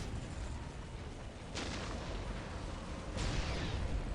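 Kasrkin guns fire in a Warhammer 40K battle game: two sharp, heavy bursts ring out over a constant roar of distant battlefield noise.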